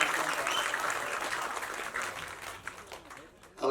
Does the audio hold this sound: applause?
yes